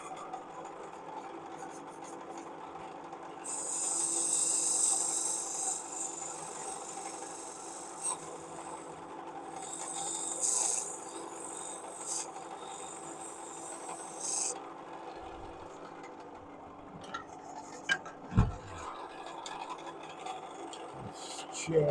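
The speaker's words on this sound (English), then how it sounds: "then the sidewall scraper." A sidewall scraper cuts wood on a lathe, giving a steady close rasping scrape with brighter hissing bursts over a continuous hum. Near the end the cutting drops away, leaving a few sharp knocks.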